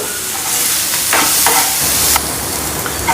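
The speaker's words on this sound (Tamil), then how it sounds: "கடுகு வெடிச்சிருச்சு. ஜீரகம் போட்டுக்கோங்க. ஜீரகம் பொரிஞ்சிருச்சு." Mustard and cumin seeds crackle and pop in hot oil in a pan while a pearl millet adai batter's tempering is prepared, a steady close sizzle with scattered sharp bursts and no voices.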